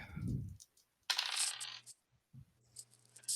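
Dice clattering onto a tabletop during a zombie survival role-playing game session, a couple of short rattling rolls with a pause between them, heard close and fairly loud with no talk.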